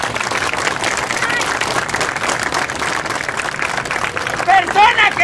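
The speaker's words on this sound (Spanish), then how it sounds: "¡Fuerte las palmas!" A live comedy show audience claps loudly and continuously, dense and close, with crowd murmur and shouts mixed in and a few brighter whoops near the end.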